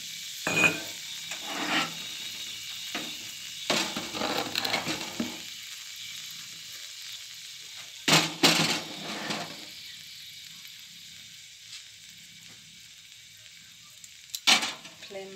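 Cardamom in a little hot oil crackles and sizzles faintly in a pan, with a low steady hiss broken by short bursts of louder spattering and occasional scraping clinks, close by and with no talk.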